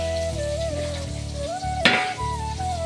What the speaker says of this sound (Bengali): শুধু মাছ ভাজা হচ্ছে